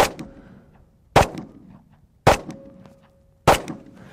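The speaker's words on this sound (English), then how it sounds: "Let's shoot these hard cast ammo down at the targets." Four loud, sharp reports from a Sig X-Ten 10mm pistol firing hard cast ammo at targets. The shots come about a second apart, and each cracks sharply before a brief ringing decay, with no talking.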